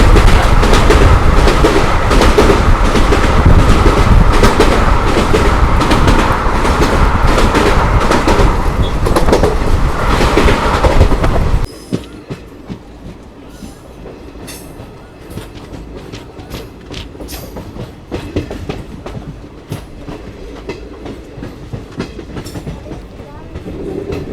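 The 12748 Vikarabad - Guntur Palnadu SF Express runs loudly with a dense rumbling roar and rhythmic wheel clatter, then drops abruptly to a quieter, sparser clickety-clack of rolling carriages.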